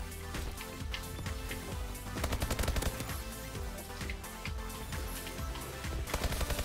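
Rapid gunfire bursts from a gun in a first-person shooter video game, dense repeated automatic shots with occasional louder volleys, steady and close throughout.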